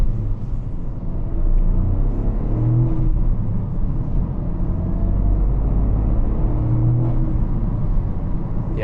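A turbocharged car accelerates and revs with a loud, close, deep rumble, its engine note rising and falling in steady surges throughout.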